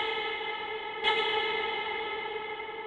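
A sustained tone drenched in a long reverb set to a fully wet mix on a house track, the smeared tail holding steady with a brief bright swell near the middle; no one speaks.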